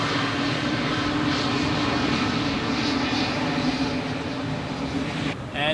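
An Airbus A330-300 just landed at Zurich Airport rolls toward the south side, its engines producing a steady, fairly loud roar with a low hum that cuts off abruptly near the end.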